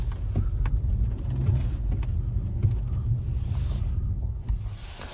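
Taxi car being maneuvered into a parking spot on a slippery surface, its engine a low steady rumble close by, with scattered clicks and light knocks from the vehicle interior.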